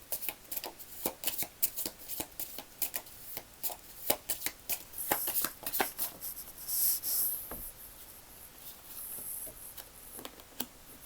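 Medicine divination cards are shuffled by hand in a steady run of soft riffling slaps and flutters that continue throughout, close and moderately loud, with no one speaking.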